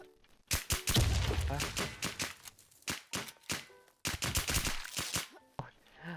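Video game gunfire rattles in rapid bursts of close, loud shots, with short pauses between volleys. Fast automatic strings mix with single cracks.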